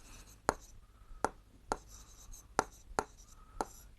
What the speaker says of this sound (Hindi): तो स्केल की सहायता से हमने एक रेखाखंड खींचा